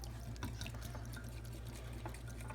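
Ice-cold water trickling into falafel pizza dough, a soft continuous pouring and splashing with faint drips, heard close and quiet.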